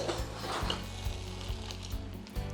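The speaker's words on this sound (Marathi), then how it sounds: "हे पन्नास ग्रॅम काजू आहे हे पुन्हा परतलं" Fifty grams of cashews roasting in a pan, with a faint steady sizzle and a low hum under occasional soft scrapes and taps, and no talk.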